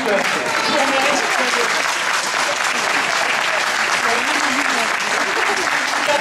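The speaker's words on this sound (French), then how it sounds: "vous pouvez également applaudir les arbitres qui vont officier tout au long de cette journée." A crowd at the 2014 inter-regional open competition applauds the referees, with steady, loud, continuous clapping filling the whole stretch and faint crowd voices beneath.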